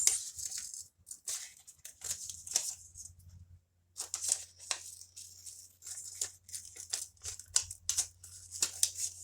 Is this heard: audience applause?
no